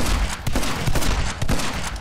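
Gunfire in the video game My Friend Pedro comes as loud, dense bursts of rapid shots in quick succession, with brief gaps between volleys and no talking.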